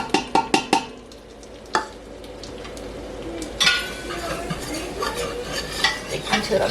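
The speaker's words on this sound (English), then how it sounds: "And then you need to use the whisk." A whisk scrapes and clatters against a pan as flour and butter are worked into a roux, with quick metallic taps at first and then steadier stirring scrapes over a faint background hiss.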